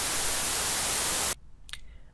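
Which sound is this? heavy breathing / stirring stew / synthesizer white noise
synthesizer white noise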